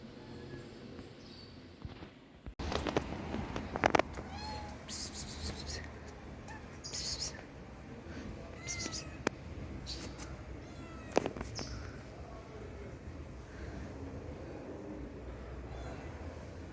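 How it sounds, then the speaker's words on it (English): A mother cat searching for her kittens meows loudly and repeatedly in distressed, drawn-out cries over a steady background noise, with a few sharper yowls standing out. "She was meowing loudly, scanning the area, desperate to locate her kittens."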